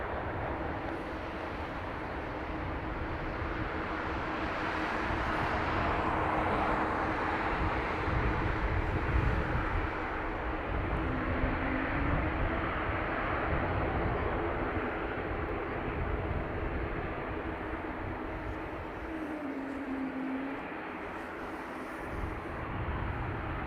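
A Delta Airbus A350 airliner rolls out after landing on Dublin Airport's north runway, a sustained broad roar of engines and wind, steady and fairly distant, with faint tonal whines shifting under it and no talk.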